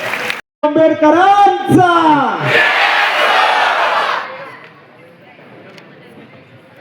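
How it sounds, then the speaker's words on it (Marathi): A crowd at a Phule–Ambedkar joint birthday festival in Nashik cheers and applauds loudly for a few seconds after voices and a shout, then the noise drops to a quieter murmur. "जोरदार टाळ्या"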